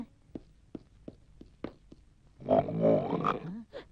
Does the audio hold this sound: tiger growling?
yes